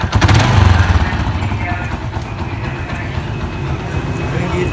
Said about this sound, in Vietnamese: Máy còn chắc nha, máy chắc máy chuẩn ha, nghe tiếng êm quá.